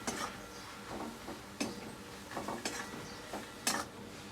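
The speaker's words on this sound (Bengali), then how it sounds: "একটু নাড়াচাড়া করে শাকটা" Greens with fish being stirred in a pan, quiet scraping and clinking strokes of a spoon against metal at an uneven pace over a faint sizzle.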